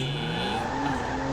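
A car engine in GTA V hums and drones steadily for a moment, its pitch gliding slightly upward, with no speech over it.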